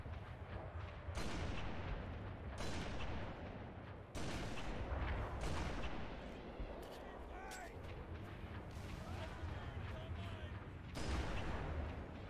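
Gunfire in Halo 3 on The Ark level: repeated loud, booming shot bursts over a dense, continuous wash of battle noise, with several sharp blasts spaced through the stretch.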